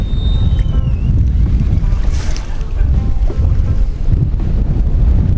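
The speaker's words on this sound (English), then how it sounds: "God, it's a freaking hurricane." Strong, hurricane-like wind roars across a lake during November flathead fishing from a boat, buffeting the microphone with constant loud rushing noise and a brief faint whistle near the start.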